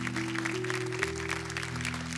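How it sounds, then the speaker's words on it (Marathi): A studio audience on a Marathi TV celebration show claps in a steady, dense burst that runs for a couple of seconds beneath sustained background music. "एकदा जोरदार टाळ्या होऊन जाऊ देत."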